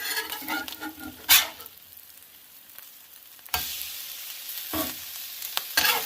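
Hash browns sizzling on a Blackstone griddle, a hissing fry that eases to a low crackle and then swells again, broken by a few sharp scraping clatters from a spatula, with no voices.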